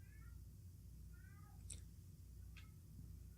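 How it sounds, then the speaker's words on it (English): A pet cat meows softly several times in the background of a quiet indoor recording, with short, faint calls spaced apart over a steady low hum. "Yes, that's my cat."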